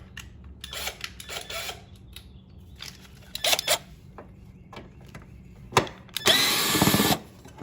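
A power tool buzzes in short intermittent bursts while it backs 3/8 bolts out of a 2007 Toro Recycler self-propelled mower. A longer, louder run comes near the end, with quieter handling noises in the gaps.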